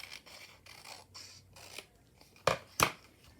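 Scissors trimming paper for a vintage French junk journal: soft rustling handling, then two sharp, close snips near the end.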